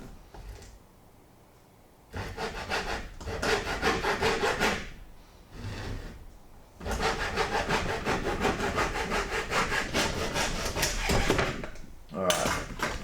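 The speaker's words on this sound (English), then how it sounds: "I'm still using the hacksaw because it gives a better cut" A hacksaw rasps through a workpiece in steady back-and-forth strokes, several bursts of rapid sawing separated by short pauses, close and fairly quiet.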